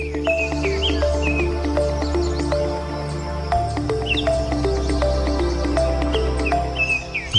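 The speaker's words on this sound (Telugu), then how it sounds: "మీకు ఇప్పుడే కదా చెప్పాను అది పిచ్చుక అని." Sparrows chirp repeatedly in short bright calls over steady low background noise, a busy stream of small-bird tweets close by with no talking.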